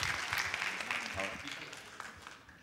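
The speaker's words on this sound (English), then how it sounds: "Give him a round of applause" A church audience applauds a visitor with a brief burst of clapping that fades gradually, while voices talk over it.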